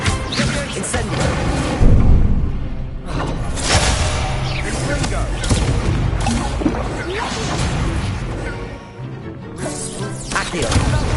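An Incendio fire spell is cast during combat in Hogwarts Legacy, loud whooshing blasts and crashing impacts repeating in quick succession among other spell effects, with voices speaking over the fight.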